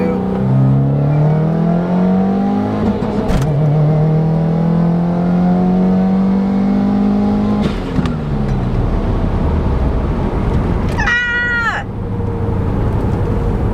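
A Jeep accelerating hard in second gear from about 3,500 RPM at around 30 mph on a back road, engine note rising steadily in pitch, dropping at a shift, then climbing again, with a brief voice near the end.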